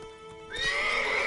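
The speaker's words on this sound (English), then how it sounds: "Luckily, Geralt can always count on his horse Roach to help him in his travels." Geralt's horse Roach from The Witcher 3 gives one clear whinny that swells up halfway through, with soft hoof clops behind it.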